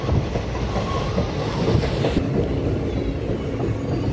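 A train from Bamanhat rolls into Cooch Behar station with a steady rumble and clatter of wheels, which eases slightly partway through, heard from close by.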